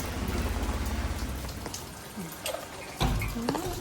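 Light rain falling steadily outdoors, a soft even patter close by with a few brief sharper taps and faint high background tones over its few seconds.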